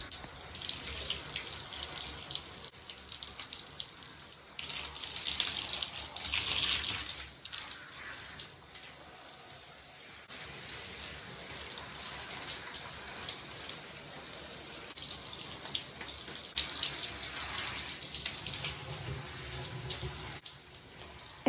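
A hot shower runs steadily for the whole stretch, a close, even hiss of spray with slight swells and dips as the water falls during a curly hair routine. No voices are heard.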